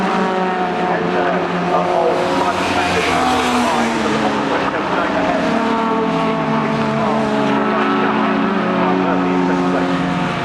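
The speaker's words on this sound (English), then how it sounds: "David Cox goes through side by side with the big car" Race cars at Cadwell Park circuit howl past in a continuous high-revving roar with shifting engine pitch as they go by side by side, while a commentator talks over the noise.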